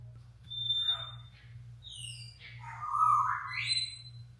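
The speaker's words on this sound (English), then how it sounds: "That was the parrots that time making noise." Shrill squawks and whistling calls from parrots, loud and close, rising and falling in pitch over a steady low hum.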